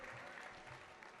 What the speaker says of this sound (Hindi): जोरदार तालियों से आप इनका इस्तकबाल करिए